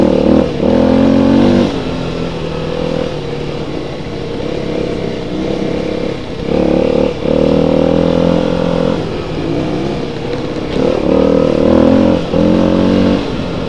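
Off-road motorbikes, a Kawasaki KLX and a Beta Xtrainer, ride through Orlestone Forest, their engines loud and close with repeated revving swells and throttle surges over a constant mechanical drone.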